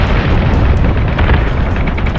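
Incoming enemy fire explodes in the Battlestar Galactica Deadlock space combat game, a loud continuous rumbling boom that fills the whole moment with dense low-end roar.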